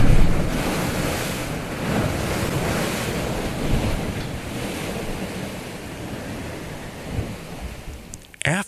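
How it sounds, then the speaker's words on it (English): Waves surge into a rocky inlet on the Acadia coast and boom against its end like thunder. The loud, continuous roar of surf and wind buffeting the microphone swells and ebbs, with no one talking. "where the waves push the water in. And when that water gets pushed up against the end of the inlet, it makes a sound that's a lot like thunder."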